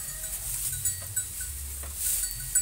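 Cattle being fed on a farm with goats also kept, giving a steady low livestock rumble and faint scattered animal noises throughout, with no voices.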